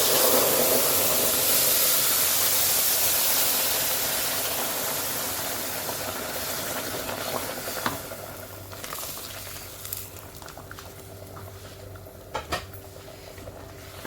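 Boiling water poured into a pot of duck biryani, raising a loud broadband hiss of steam that fades slowly over several seconds, with a few faint knocks toward the end and no voices.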